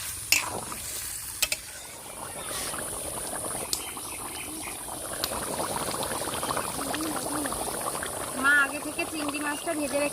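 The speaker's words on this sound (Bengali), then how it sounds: "আলু পটল কষানো হয়ে গেছে এবার আমি জল দিয়ে দেবো" Water pours into a pan of fried potatoes and pointed gourd in a village-style kitchen, a steady splashing and sizzling hiss with a brief clatter near the start, under faint background noise.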